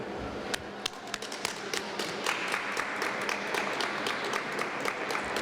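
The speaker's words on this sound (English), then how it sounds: "She deserves every bit of applause we can give her" A room full of people claps for a woman at a clean energy event in Pennsylvania, with sharp individual claps standing out early before the applause swells into a full, steady round.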